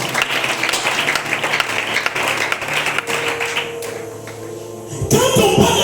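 A church congregation applauding to acclaim the Lord, dense clapping for several seconds that thins out, then a short burst of louder tapping at the end.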